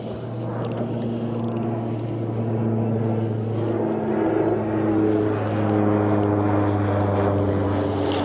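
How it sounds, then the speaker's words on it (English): A commuter propeller plane approaching a nearby airport drones steadily overhead, its low engine hum filling the whole stretch, with faint outdoor noise around it. "It's the local commuter plane coming into a nearby airport."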